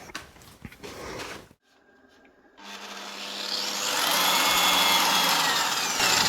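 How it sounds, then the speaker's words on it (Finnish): Power tool sanding brass, starting with a whining spin-up after a pause and then a loud, sustained abrasive grinding hiss that builds and stays strong at close range. "Okei, aletaan hioa."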